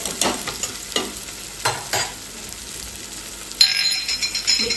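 Ginger-garlic paste frying in a pan for tomato bath, a soft steady sizzle with several louder bursts of scraping as it is stirred, close and alone.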